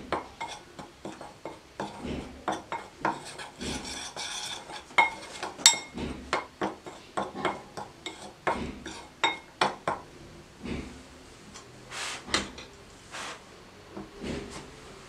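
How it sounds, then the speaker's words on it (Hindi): A spoon stirs eggless omelette batter of flour with baking powder, salt and chilli in a bowl, making brisk, irregular scraping and clinking strokes that repeat steadily, close and fairly loud. "सबको मिक्स करें।"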